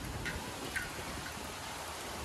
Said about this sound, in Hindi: बारिश नहीं ओले भी पड़ रहे हैं, बहुत तेज ओले हो रहे हैं, बहुत तेज।